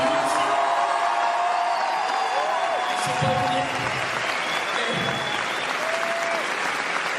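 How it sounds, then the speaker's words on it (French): Audience applause with cheering and whoops honoring Mathis at a talk after a mountain film screening, sustained and full, with a speaker's voice and some tonal sounds over it. "j'aimerais un tonnerre d'applaudissements pour Mathis"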